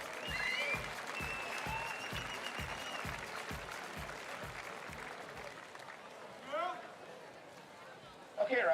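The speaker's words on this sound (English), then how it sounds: "Ladies and gentlemen, once again, applause, applause," At the BMX racing world championships, a crowd applauds steadily for a rider. A rhythmic thumping runs under the applause, and an announcer talks over it.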